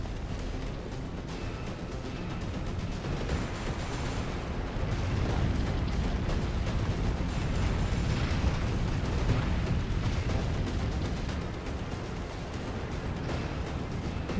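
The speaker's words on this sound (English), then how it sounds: "He's shooting shit at me now" An enemy shooting at the player in Resident Evil 3, heard as continuous loud, dense explosive rumble and blasts lasting throughout with no clear pauses.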